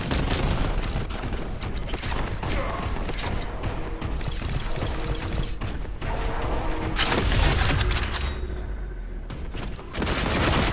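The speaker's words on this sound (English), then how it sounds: "Grenades!" Grenades burst in loud, dense succession amid heavy gunfire and clanking mechanical noise in the Warhammer 40,000: Boltgun shooter, a near-continuous barrage of booms with brief lulls.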